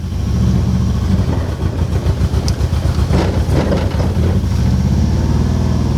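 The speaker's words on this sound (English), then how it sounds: "I'm out on the road in the Porsche" A Porsche 914 drives along a road, its engine droning loudly and steadily from inside the car with rhythmic mechanical pulsing and road noise.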